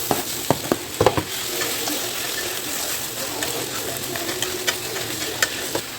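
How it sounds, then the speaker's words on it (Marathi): Onions fry in a pan as tomatoes go in, a steady sizzle with scattered sharp clicks and scrapes from a stirring utensil, close and moderately loud, no talking. "त्याच्यात मी टाकणार आहे टोमॅटो."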